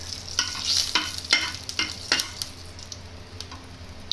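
Spoon scraping and stirring cumin in hot ghee in a pan with a steady hiss of frying, several scrapes in a loose rhythm, close and moderately loud.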